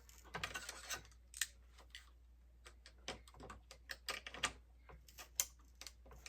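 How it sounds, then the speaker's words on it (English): An X-Acto knife cuts through balsa wood on a model gas-powered plane wing, giving a series of quiet, close, irregular crisp ticks and scrapes with short pauses between strokes. "So I just got me a little X-Acto knife here, and I will try to figure which way I want to cut first."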